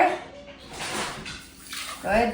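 Milk pours into a bowl for a chia seed pudding in a farm kitchen, a short splashing trickle heard close up while people talk over it.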